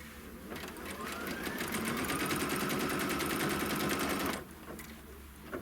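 An embroidery machine stitches a trim line on a quilt block, a rapid steady mechanical chatter running for about four seconds before stopping abruptly, fairly close and alone.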